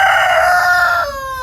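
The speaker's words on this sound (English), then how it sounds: "awakened by the chicken over there" A village rooster crowing in the early morning, one loud close crow with a sustained tonal call that drops in pitch toward the end, heard alone.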